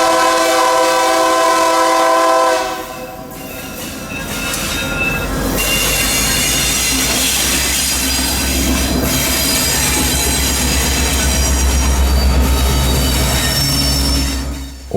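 Yadkin Valley Railroad freight train YV1 rolls through town, its horn blaring in long blasts at the start, followed by loud rumbling, clanking cars and squealing wheels close by.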